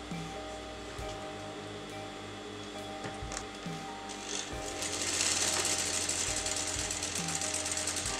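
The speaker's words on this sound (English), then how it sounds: "Make sure you sew at the exact margin of your canvas." Sewing machine stitching a kurta neckline on fabric, a steady mechanical hum with faint periodic thumps; the motor grows louder and brighter partway through, running continuously up close.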